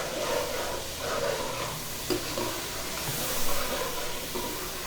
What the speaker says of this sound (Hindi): ये इस मसाले को हम अच्छी तरह भून लेंगे।